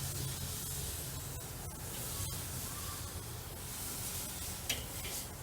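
A handheld flame torch crisps the surface of a double smoked ham. It gives a steady, close hiss that runs unbroken for several seconds without a pause.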